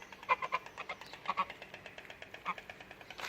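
Geese honking at a zoo park, several short honks and quacks in irregular bursts at moderate distance, with faint voices in the background.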